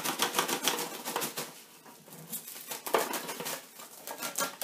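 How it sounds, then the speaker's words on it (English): Cellophane wrap crinkles and crackles over a bowl of chia-seeded artisan bread dough, a close, busy run of sharp rustling snaps that keeps going with no talking. "You need cellophane and a rubber band."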